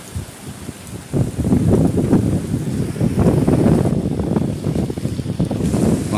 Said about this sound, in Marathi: वारा तर खूप सुटला